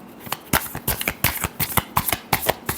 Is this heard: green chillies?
no